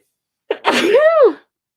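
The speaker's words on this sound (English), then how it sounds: "Oh, I'm going to sneeze." A single loud, close human sneeze: a sharp intake of breath and then a burst that fades out, in an otherwise silent room.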